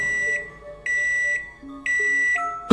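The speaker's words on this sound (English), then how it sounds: "The beep that haunts your very dreams from the microwave, Fawn." A microwave oven sounds a sequence of loud, clear electronic beeps, three long sustained tones evenly spaced, with a brief closing beep at the end and no talking.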